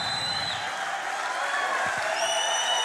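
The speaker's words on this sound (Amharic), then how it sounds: "ለኢየሱስ እስቲ ከዚህ በላይ ልልታችሁን ጭብጨባችሁን" A church congregation clapping and ululating for Jesus, a dense continuous roar of applause with high trilling cries running through it.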